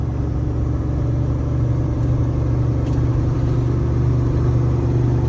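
A Peterbilt semi truck with an 18-speed manual transmission rumbles steadily as it gathers speed on a dirt road, a low, continuous engine drone heard from inside the cab.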